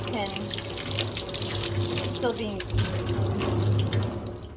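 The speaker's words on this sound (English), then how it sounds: "now I'm going to just rinse it out" Tap water runs steadily over wet felted wool in a sink while it is rinsed and squeezed, a close continuous splashing stream; a voice speaks briefly over it.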